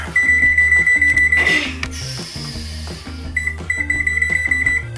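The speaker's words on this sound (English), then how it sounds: "Start the timer" A kitchen timer set for a bacon-wrapped stuffed chicken bake gives a run of high, rapid electronic beeps, stopping briefly and then starting again, over steady background music.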